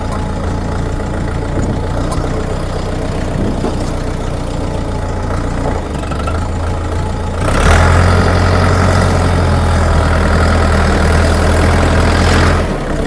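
Eney 404 minitractor engine idling close by with a steady low diesel-like drone, growing louder and rougher partway through as the revs lift slightly, no talk.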